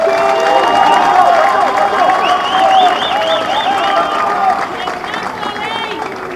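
A large audience applauds and cheers for the President of the DRC, a dense sustained wash of clapping and crowd noise with voices rising over it, loud and steady before easing slightly toward the end.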